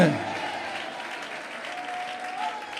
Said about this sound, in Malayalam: കൈയടിക്കുന്നെങ്കിൽ നേരെ കരങ്ങളടിച്ചേ.